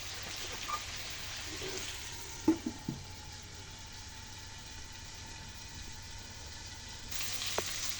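Chicken curry sautés with curry powder in a covered pan, giving a faint, steady frying sizzle with a few soft clinks of utensils partway through.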